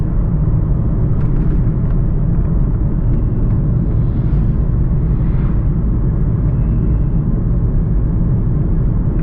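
A 2014 Volkswagen Golf TSI cruising at 100 km/h, giving a steady, loud low rumble of engine and road noise that holds unbroken throughout.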